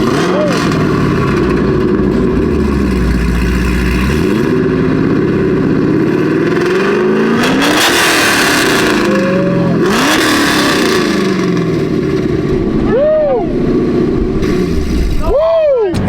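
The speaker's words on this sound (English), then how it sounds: "He gonna do a nice little exhaust clip for us." A Ford Ranger on 32-inch wheels at a car show revs its exhaust loudly in repeated rising and falling bursts, with several sharp blips near the end. Voices talk over the engine.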